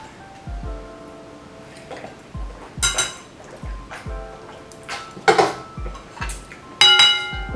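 Spoons clink against bowls of homemade Vietnamese pho, several light scattered taps and scrapes with a faint liquid slosh, close and fairly quiet, spaced irregularly.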